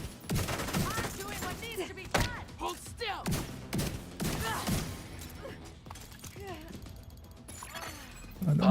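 Rapid bursts of gunfire from The Division video game crackle under running commentary and in-game mechanical clicks, with the shots spread through the stretch rather than dominating it.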